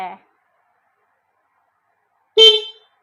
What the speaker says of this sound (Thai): เสียงแตรโคตรใสเลย